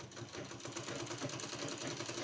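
A sewing machine stitches a fabric sleeve, running in a fast, even clatter of rapid needle strokes, steady and close for a couple of seconds.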